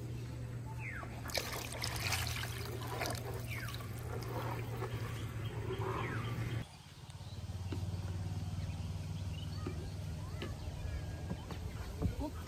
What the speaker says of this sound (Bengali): ডাল চালটা ভালোভাবে কষিয়ে নিছি এখন দিয়ে দিলাম পানি